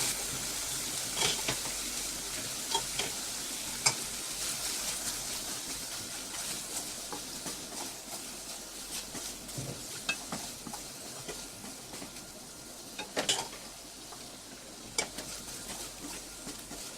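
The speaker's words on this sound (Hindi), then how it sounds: "तो अब हम इसमें डालेंगे कुक्ड राइस।" Cooked rice stirred into a tomato masala in a pan for tomato rice, with a soft continuous sizzle and repeated scraping stirs and light clinks of a spoon on metal, no talk.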